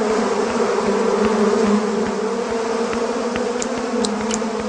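A cartoon sound effect of a bee swarm, a dense, continuous, loud buzzing drone with small flickers, close and steady throughout.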